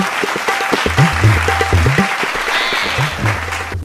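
An audience claps steadily for a school principal at a stage event, a continuous wash of applause with low musical tones mixed underneath.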